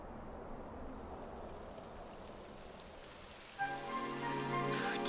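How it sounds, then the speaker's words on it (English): Steady rain falls in a Dragon Quest XI S cutscene, a broad continuous patter that runs alone before music and effects swell in near the end. "It would have to go and start raining, wouldn't it?"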